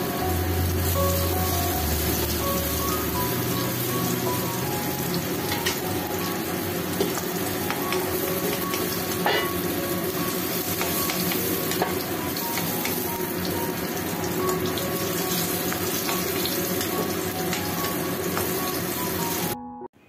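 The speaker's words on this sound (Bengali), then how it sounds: "কুমড়োগুলো কিন্তু ভালো করে ভাজা হয়েছে।" Pumpkin pieces fry in oil in a wok, giving a steady, dense sizzle that runs unbroken and loud throughout before cutting off at the very end.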